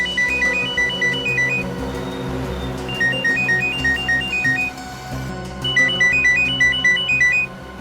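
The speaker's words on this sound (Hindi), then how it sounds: "फोन की घंटी बज रही है, आप उठाओ ना फोन।" An electronic phone ringtone plays a repeating chirpy melody in three bursts, over a low background hum.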